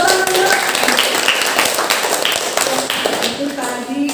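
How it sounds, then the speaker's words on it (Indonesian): Students clapping in a classroom, a short burst of scattered hand claps lasting a few seconds, close by and fairly loud, mixed with voices chattering. "Tepuk tangan, Nak."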